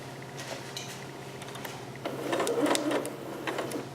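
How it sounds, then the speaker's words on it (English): A sewing machine sews a basting stitch on a dress bodice. It runs quietly with light mechanical ticking in the background, then picks up briefly in a louder, busier burst. "So I am basting this together until I get to do the fitting"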